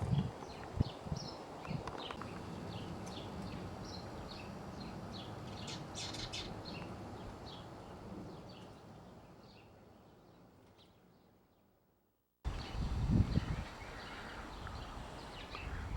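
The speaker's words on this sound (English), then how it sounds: "Boy, the birds are chirping this morning." Morning birds chirping in repeated short calls outdoors, moderately distant, alongside steady wind-like background noise and a few thumps; the sound fades out briefly before resuming.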